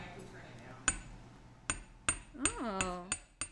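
Sharp metal-on-metal hammer strikes ring out in an irregular series of about seven blows while shaping a fibula pin, close and distinct, with a brief voice sounding between hits.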